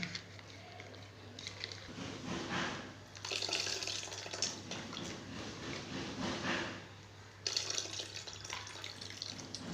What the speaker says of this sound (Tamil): அது கரைச்சி ஊற்றிக்கலாம் தேவையான புளியை ஊற்றிக்கலாம்